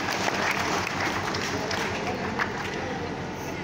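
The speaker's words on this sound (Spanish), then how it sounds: "Fuerte los aplausos." A crowd applauds at an outdoor band performance in Santa Cruz Tierra Negra, a thick continuous wash of clapping from many hands, loud and sustained throughout.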